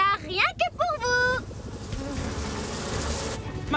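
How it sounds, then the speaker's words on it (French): Buzzing cartoon bees in a PAW Patrol animated game, a warbling insect-like drone after a few rising and falling whistly squeaks, steady and fairly loud, with no talking. "Les abeilles filent faire du miel dans la ruche."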